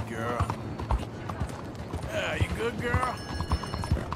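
Horse hooves clip-clopping at a gallop in the Red Dead Redemption II video game, a regular rhythm of thuds under someone talking to his horse, with game ambience behind.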